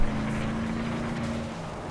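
Steady race car engine drone from the racing video game FlatOut 2, holding a constant loud tone throughout with a rough, buzzing texture and no talk.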